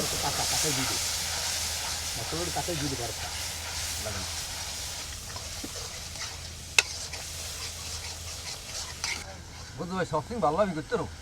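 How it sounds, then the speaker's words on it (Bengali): Fish masala for a large rocket fish curry hisses and sizzles in a pan, with stirring scrapes and a sharp clink. Voices talk over the cooking, most noticeably at the start and near the end. "এবারে একটু এটাকে কষাই ভালো করে কষাই"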